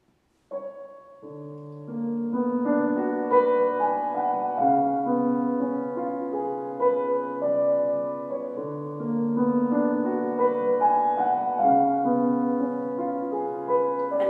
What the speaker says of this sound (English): It begins with the piano playing all by itself